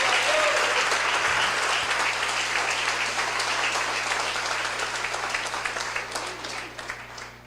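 A church congregation applauding enthusiastically at a Sunday service, sustained dense clapping from a large crowd that gradually thins and tapers off near the end.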